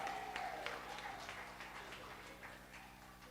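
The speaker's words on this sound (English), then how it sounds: "Let's give Comrade Jeremiah Norbert a round of applause." Crowd applause at a Saint Lucia Labour Party town hall meeting in Babonneau, held at Fond Assau Primary School, soft and somewhat distant, scattered clapping that slowly tapers off over a few seconds.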